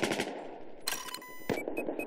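Close-range gunfire in Battlefield 4, with rapid automatic shots in short bursts and a few sharp single cracks, fairly faint and mixed with in-game background noise.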